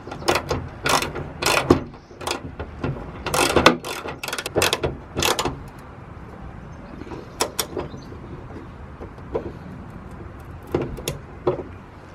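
A ratchet spanner clicks rapidly in bursts while tightening the bolt on a car bonnet strut fitted to a Honda EP3, close and crisp, the clicking slowing and thinning toward the end.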